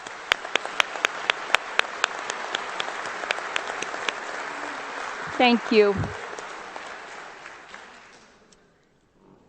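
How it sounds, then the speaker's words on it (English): A commencement crowd at a Washburn Tech spring graduation ceremony applauds in a steady, full wash of clapping with sharp individual claps on top; midway a person briefly speaks, then the applause fades out toward silence. "Please, let's give them one more round of applause."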